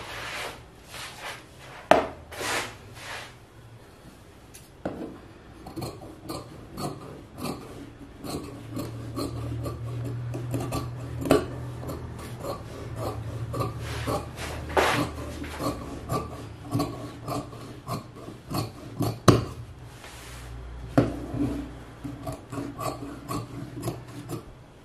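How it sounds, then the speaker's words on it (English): Scissors cut through corset fabric with irregular close snips and rasping crunches, scattered in bursts with brief pauses between strokes and no speech. "and you cut."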